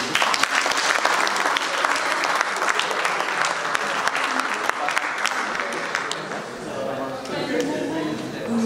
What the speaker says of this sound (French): je leur demande encore une fois de l'applaudir